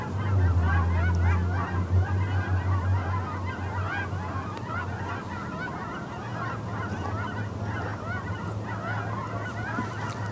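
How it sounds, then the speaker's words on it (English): Geese honk steadily in a loose chorus over a low continuous rumble, the calls overlapping and moderately loud throughout. "Geese, you hear the geese?"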